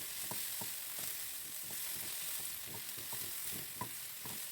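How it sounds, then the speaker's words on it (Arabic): Onions and spices, including pepper and allspice, stir-fried in a pan for a caramelized-onion beef tagine, giving a steady close sizzle with repeated scraping stirs throughout. "هنزل بقى ببقيه البهارات اللي كانت عندي، الفلفل والبهار الحلو، وهدي تشويحه للكلام ده حلو قوي"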